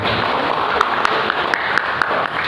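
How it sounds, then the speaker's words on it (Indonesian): Audience applause follows a welcome speech at a PT Taspen corporate presentation. It stays dense, loud and continuous throughout, with a few sharper claps standing out. "Beri tepuk tangan dulu untuk Bapak Sulman Hadi Taman."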